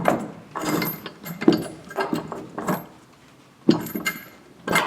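Metal bolts being fed into place while a truck part is installed make intermittent, close metallic clinks and rattles in short bursts with brief pauses between them.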